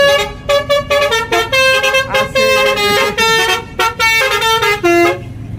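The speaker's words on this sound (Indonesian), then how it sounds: "Boleh juga nih bis nih. Arah telolet-nya nih." A bus sounds its telolet horn in a packed port crowd, loud musical horn blasts repeating in quick bursts of changing pitch, close and strong over low traffic noise.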